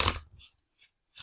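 A deck of playing cards shuffled in quick riffling bursts, a loud flutter at the start followed by short faint ripples and another burst at the end, close and clear with no talking.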